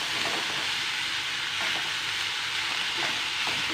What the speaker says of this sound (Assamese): হেতাখন দি অকণমান লৰাই দিছোঁ।